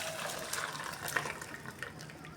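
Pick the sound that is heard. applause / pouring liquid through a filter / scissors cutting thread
pouring liquid through a filter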